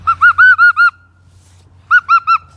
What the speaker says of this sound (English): The bird is answering you